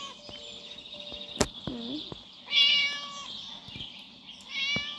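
Cat meowing in the Scary Teacher video game, two soft meows a few seconds apart with a sharp click between them, faint and set against low game background noise.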